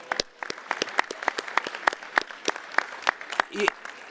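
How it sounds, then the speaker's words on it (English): Audience at a Los Angeles leadership event clapping in scattered, distinct individual claps rather than a dense roar, fairly close and moderately loud, with a brief voice near the end. "Please, a round of applause."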